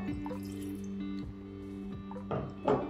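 Water is poured into a pan for choux pastry, a faint trickle and drips with a couple of louder splashy bursts near the end.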